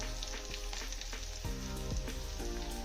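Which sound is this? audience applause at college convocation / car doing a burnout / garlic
garlic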